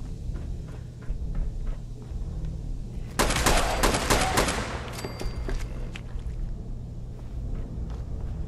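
A homemade AK pipe rifle firing in Fallout 4 during a fight at the Nuka-Cola Bottling Plant in Nuka-World, a loud burst of rapid gunfire erupting partway through over a low rumbling background, then fading to scattered sounds.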